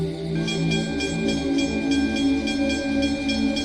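An approaching train's steady rumble with rhythmic clacking and a faint tonal hum, holding at a constant, moderate level throughout.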